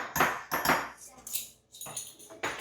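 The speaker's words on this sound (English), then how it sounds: "And you just mix it together, shake it up." Homemade Creole seasoning with cayenne pepper is mixed and shaken in a container, giving a series of close rattling, scraping shakes in quick bursts with brief pauses between them.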